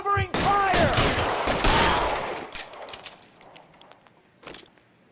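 Gunfire in the video game L.A. Noire, a dense burst of overlapping shots up close that gradually thins out into scattered, fainter reports, with a voice calling out over the opening.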